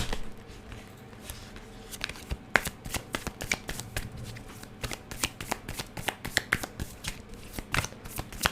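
Tarot cards shuffled by hand in a rapid series of crisp riffling snaps and flutters, steady and close, alone with no talk over it.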